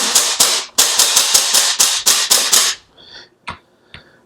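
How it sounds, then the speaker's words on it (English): A Sig P226 X-Five BB pistol fires about ten sharp, loud shots in quick semi-automatic succession, followed by a few fainter mechanical clicks and thumps as the firing stops. "Now to fire again, you just keep pulling the trigger."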